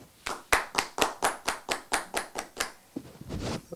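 Slow, evenly spaced handclaps from one or two people on a basketball podcast, about a dozen sharp claps in steady rhythm, close and clear, then fading into a brief rustle.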